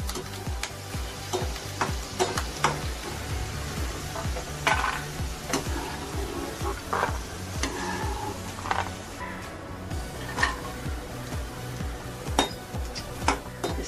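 Poha, flattened rice, dry roasts in a pan, stirred with a spoon, giving steady scraping and rustling with soft sizzling and occasional clinks of metal on the pan.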